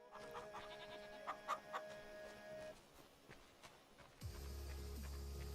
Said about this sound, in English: one of the goats went bah